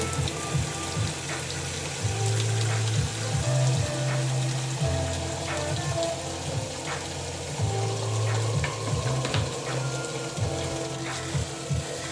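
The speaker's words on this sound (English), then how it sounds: "Hot water." A tap pours hot water in a continuous hiss and patter, with light clatter now and then. The flow stays steady and close for the whole stretch, with no voices.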